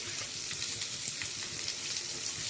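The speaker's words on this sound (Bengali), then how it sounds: "একে একে পেঁয়াজ কুচিগুলো দিয়ে দিলাম।" Chopped onions and green chillies frying in hot oil for a chicken Kolhapuri, a dense, constant crackling sizzle up close, loud and steady with no talking.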